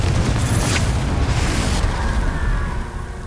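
A Confringo fire spell explodes in Hogwarts Legacy as a deep, rumbling boom with a brief crackling burst on top, its roar sustained before slowly fading away.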